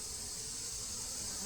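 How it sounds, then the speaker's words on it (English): Honey bees fly in and out of a hive entrance while foraging, a faint, continuous high buzzing drone with no voices over it. "there's some bees at the entrance, and there's some bees flying in and out"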